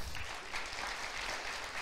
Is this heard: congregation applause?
yes